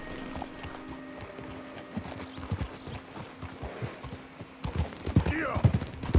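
Horses in the video game Red Dead Redemption 2 trotting in steady clip-clop rhythm, several animals at once, close by, with someone talking over the hoofbeats and a brief whinny near the end.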